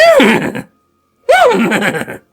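A person imitates a horse, giving two loud, close whinnying neighs with rising and falling pitch, separated by a brief pause and no other talk.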